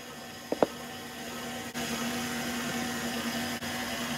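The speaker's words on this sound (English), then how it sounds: "mix together until they're well blended" Electric mixer blending cake batter for a caramel apple Bundt cake made from a boxed mix: a steady whirring drone that runs throughout, preceded by a couple of quick clicks as it starts.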